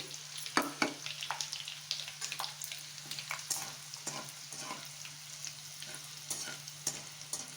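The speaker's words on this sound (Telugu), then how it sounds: "ఆవాలు చిక్కిన తర్వాత వెల్లుల్లి వేసేసుకోవాలండి తర్వాత మెంతులు జీలకర్ర వేయాలండి" Garlic, fenugreek and cumin fry in hot oil after popped mustard seeds, a soft, continuous sizzle broken by frequent crackles and spits, with no voices.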